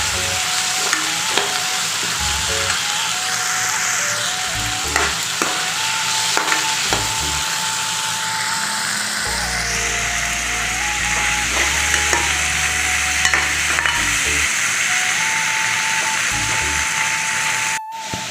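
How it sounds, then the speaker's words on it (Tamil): Tomatoes sautéing in a frying pan for a simple cauliflower gravy, a continuous close sizzle with repeated stirring scrapes and clinks of a spoon against the pan. "தக்காளி ஓரளவுக்கு நல்லா வதங்கிடுச்சுங்க"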